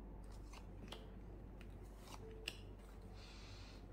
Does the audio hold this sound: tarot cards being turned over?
yes